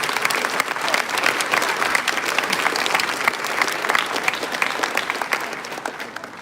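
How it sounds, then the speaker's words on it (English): Sustained audience applause at a middle school eighth grade graduation ceremony, a dense steady wash of many hands clapping throughout with no pauses. "How about another round of applause for those 3 brave souls?"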